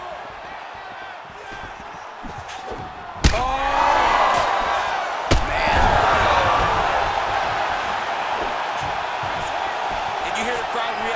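In a UFC 5 video game bout between Stephen Thompson and Michael 'Venom' Page, two sharp strike impacts each set off a loud swelling crowd roar, with a commentator talking over the arena noise.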